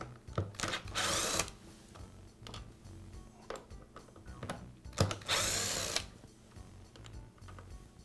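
A power driver spins out the two screws holding the cord strain relief on a Ryobi pressure washer, with two loud whirring bursts of the motor separated by quieter handling and rattling of parts.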